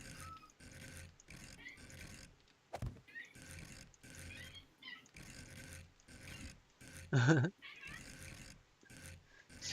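Squeaky meows from a cat in a modded survival game, several short bursts spaced across the stretch, with one louder meow standing out.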